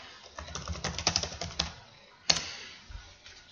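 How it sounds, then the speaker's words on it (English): Quick, uneven keystrokes on a computer keyboard, close and fairly quiet, with one sharper key press near the end, as a search term is entered into a Word document. "And then I'm going to type in Apple Pie."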